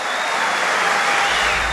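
Loud, dense audience applause for President Obama during his speech in Brazil, an even, continuous wash of clapping throughout the short stretch.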